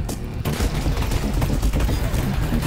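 Rapid gunshots from a VR shooter such as Onward or Half-Life: Alyx, played on a Quest 2, crackle densely and loudly for several seconds after a brief quiet start, with no pauses between shots.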